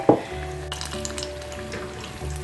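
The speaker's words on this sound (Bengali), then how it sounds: "মিডিয়াম আঁচে এগুলোকে ভেজে নিতে হবে" Pakora fritters fry in hot oil over medium heat, giving a steady close sizzle that opens with a brief sharp crackle, and no one talks.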